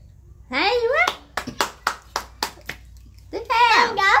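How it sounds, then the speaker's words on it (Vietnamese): A child claps hands in a quick series of about eight sharp claps, close and loud, framed by a voice talking before and after. "Vỗ tay."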